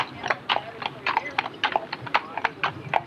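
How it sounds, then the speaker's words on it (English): Hooves clip-clop in a quick, uneven rhythm, close and clear, with several horses' steps overlapping at Greenfield Village. "There's horses going through."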